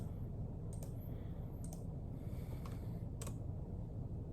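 A computer keyboard being typed on, entering numbers: a few sparse, faint clicks of separate keystrokes over a steady low room hum.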